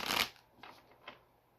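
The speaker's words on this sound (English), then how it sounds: "Let's get a better shuffle than that." Tarot cards riffled in a quick, crisp shuffle up close, followed by a couple of softer card slides and taps, quiet overall.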